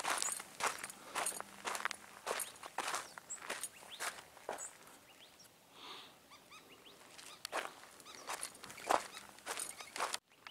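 Footsteps crunch along an outdoor hiking trail in a steady walking rhythm, close and fairly loud, with a brief lull midway and faint bird sounds in the background.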